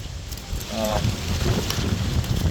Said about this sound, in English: That wind is, oh Lord, is cutting through us.